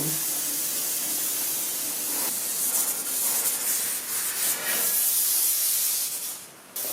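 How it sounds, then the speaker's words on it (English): Pressure canner still boiling hot on a concrete floor, a loud continuous hiss and rushing bubbling noise close by, with a sudden dip just before the end. "I can still hear it boiling hot in there."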